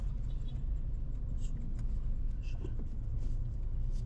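Congested car traffic on a road, heard as a low, steady engine rumble from inside or near slow-moving vehicles, with faint brief higher sounds over it.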